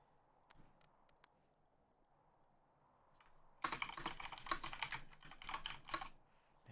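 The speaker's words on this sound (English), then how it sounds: "is that what my keyboard sounds like?" Quiet room tone with a few faint clicks, then rapid close typing on a computer keyboard starts and continues in a dense clattering stream.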